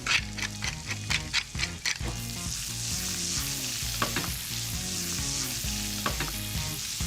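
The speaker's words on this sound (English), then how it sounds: "Spread the potatoes across the pan. I want the potatoes stained." Potatoes with turmeric fry in a pan, hissing and sizzling close up, with quick clattering stirs and scrapes in bursts near the start and again later over the steady sizzle.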